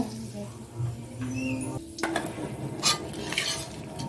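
Raisins and cashews are stirred in a frying pan, with a soft sizzle and scraping and clinking of a utensil against the pan, close by, over a low background hum.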